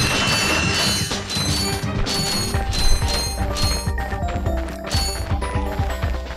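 Bolts are collected in the Ratchet & Clank HD video game: dense metallic clinking and mechanical rattling pickups ring out over layered game music and steady background effects.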